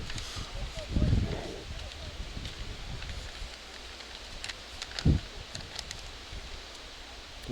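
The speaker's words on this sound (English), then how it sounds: "Wind's gusting right now." Wind gusts across the outdoor field at a Port Huron versus Lakeview high school soccer game, producing a rough, continuous rushing noise with heavy buffeting thumps on the microphone.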